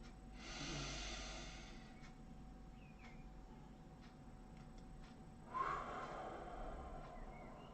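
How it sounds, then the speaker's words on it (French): A slow breathing exercise in Joshin Kokyu Ho Reiki practice: a long, close airy breath at the start, a quiet pause while the breath is held, then a second soft rush of exhaled air. No talking. "Donc je bloque un peu la respiration et ensuite j'expire."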